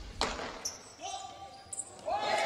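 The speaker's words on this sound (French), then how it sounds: "cette balle qui vient rebondir juste devant le tambourin de l'ailier droit espagnol et qui saute son tambourin" A tambourin ball bounces once just in front of a Spanish right winger's tambourine during a EuroTambourin Spain versus Germany match, a short thud amid crowd noise with commentary running over it.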